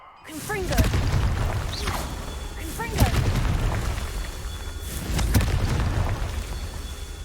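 A Confringo fire spell goes off in Hogwarts Legacy, with heavy booming impacts and whooshing magical bursts layered over a rumbling game soundscape. Several sharp blasts punctuate the continuous roar, and a voice speaks briefly.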